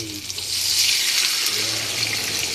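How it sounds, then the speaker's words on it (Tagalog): Water from a tap or container pours steadily into a cooking pan holding squid balls, a loud, continuous hissing splash that lasts a couple of seconds. "Lagyan na po natin ng tubig."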